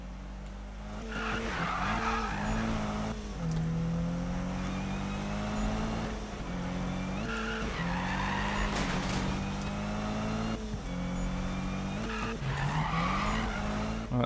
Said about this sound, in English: That was a better drift.